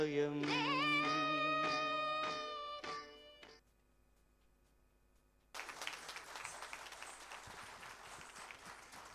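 Sustained applause from an audience at a silver jubilee celebration rises after a sung performance fades into a brief silence, then continues as dense, steady clapping to the end.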